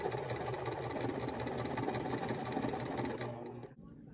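A sewing machine runs a quarter-inch seam on a sawtooth star quilt block, humming in a steady rapid mechanical rhythm, close and moderately quiet, before stopping abruptly near the end.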